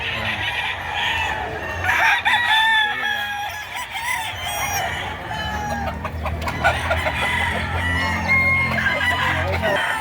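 Several roosters crow over and over amid clucking chickens at a chicken market in Padre Garcia, Batangas, a busy, close chorus with faint voices in the background.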